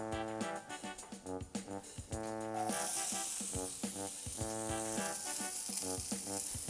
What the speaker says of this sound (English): we're just going to saute these onions and potatoes until the onions are done